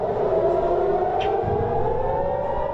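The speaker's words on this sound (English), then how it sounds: "sirens ringing once again in northern Israel as night falls on the 5th day of fighting" An air raid siren in northern Israel wails steadily at a distance, a long sustained tone with no voices over it.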